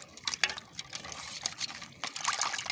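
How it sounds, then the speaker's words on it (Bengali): Water from a tap splashes and gushes in short uneven bursts while a surprise egg toy is rinsed under it, close and fairly loud, with no voices. "এটাও ভালো করে ধুয়ে নিই"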